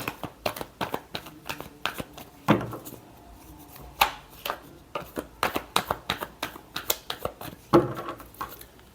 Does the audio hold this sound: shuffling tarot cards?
yes